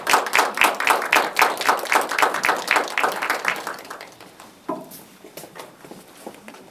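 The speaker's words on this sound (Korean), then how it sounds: "큰 박수로 맞이해주세요." An audience applauds in a warm burst of steady clapping to welcome guests onto the stage at a human rights cultural event's audience talk session, fading out after about four seconds into a quieter room with a few stray claps.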